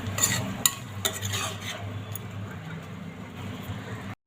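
Tomato fries with spices in oil, with a little water added, for a vegetable matar pulao. A soft sizzle runs under close stirring and a few clinks of a spoon against the pan, with a brief sharper scrape early on.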